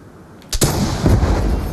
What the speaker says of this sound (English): I'm starting to fire off some RPGs.